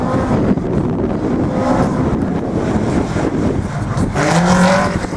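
A rally car runs a slalom course, its engine roaring loud and close with wind buffeting the microphone and a rising rev near the end.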